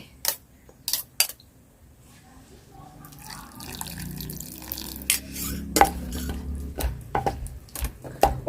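Tamarind water poured into a dish for Thai papaya salad with fermented fish: a few sharp drips first, then a longer wet trickle and splashing with intermittent clinks.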